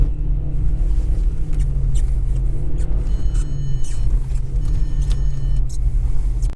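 A video game car engine drones steadily during a handbrake slide with a low, heavy rumble, loud and continuous throughout, with faint higher whines and squeals over the top.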